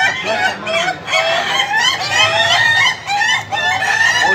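Several laughing chicken roosters (ayam ketawa) at a crowing contest call close and loud in rapid, overlapping bursts of stuttering, cackling crows, with faint crowd talk underneath.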